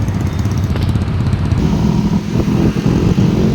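Many motorcycles ride past on a road in the Philippines, a loud continuous engine drone with a rougher passing roar early, then steady rumbling traffic without talk.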